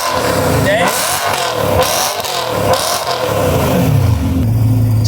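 A 600 hp Nissan GT-R engine revs loudly and close, with no exhaust fitted, punctuated by sharp hissing whooshes from turbo blow-off valves between throttle bursts.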